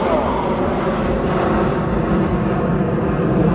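Red Arrows jets at a seaside airshow roar steadily overhead, a broad, continuous engine rush with a commentator talking over it.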